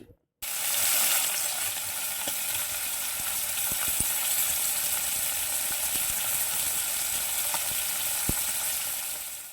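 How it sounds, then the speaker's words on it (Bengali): Fish frying in a pan at home, a loud, steady, close sizzle filling the whole stretch with a few faint ticks and pops, no talking. "তো চলো এবার মাছটাকে ভেজে নিই।"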